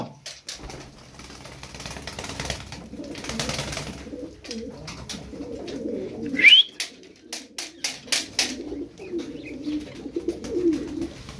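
Tumbler pigeons coo softly in a loft, with low rolling coos rising and falling, a sharp chirp partway through, and rustling and flapping noises around them.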